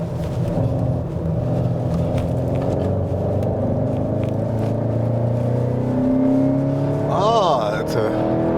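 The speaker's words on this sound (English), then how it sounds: "It's a very nice acceleration." A 230 hp Skoda Octavia RS, a 2018 facelift, accelerates on an Austrian road, its engine drone rising steadily in pitch and loud throughout, with a quick rev climb near the end over steady road rumble.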